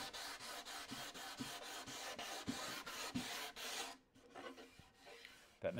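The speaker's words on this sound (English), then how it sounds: "I'll use some 180 grit paper down there, see if that'll do it." Sanding wood with 180 grit sandpaper on a reclaimed wood toolbox, quick regular rasping strokes up close that stop abruptly partway, followed by quieter scattered handling noises.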